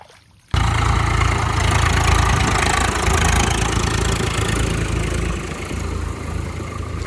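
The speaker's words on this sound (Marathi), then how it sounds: "इकडे दुसऱ्या साईडला ट्रॅक्टरने चिखल करण्याचे काम जोरात सुरू होतं" A tractor working mud in a flooded paddy field to prepare it for rice planting, its engine starting up abruptly after a quiet moment and then running as a steady, loud, close diesel rumble that eases slightly toward the end.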